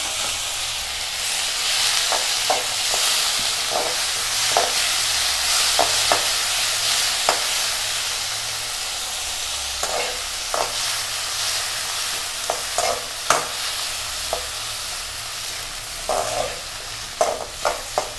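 Chopped tomatoes and onions fry together in a pan for tomato chutney, giving a steady loud sizzle and hiss, with scraping stir strokes coming at irregular intervals and clearer toward the end. No voices.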